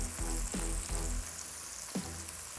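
Bacon and mushrooms sizzle in a pan with a constant crackling hiss, broken by a few dull low thumps as pieces are moved or flipped, close and fairly loud, with no talking.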